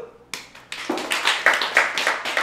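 A few people clapping in a steady rhythm at a cadet gathering, close and fairly loud, with a short tone before the claps begin.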